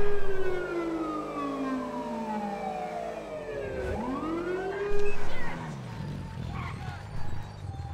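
Loud wailing police siren from a North American cop car in the GTA V police mod, sweeping up and down continuously and close by, with brief bursts of other game noise near the end.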